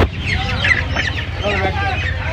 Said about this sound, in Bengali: এই একটা দেখতে পাচ্ছেন, এটাও সোনালী দেশি মুরগি আছে